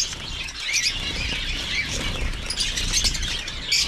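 Caged pet zebra doves give sharp squawks and squeals with bursts of wing flapping, fairly close and continuous, with no talking over them.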